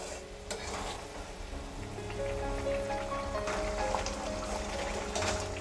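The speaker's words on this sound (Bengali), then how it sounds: "এবার গ্যাসের ফ্লেম হাইতে দিয়ে চালটাকে একটু ফুটিয়ে খুব ভালো করে সেদ্ধ করে নেব।" Gobindobhog rice boiling in a pot on a high gas flame, a steady bubbling, hissing wash at moderate level with occasional soft clinks and stirring sounds, no talking.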